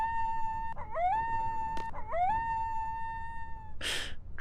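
A dog in a card-based video game howls in long, steady tonal wails, two rising swoops breaking the held note, followed by a short noisy burst at the end; clear and alone with no talk.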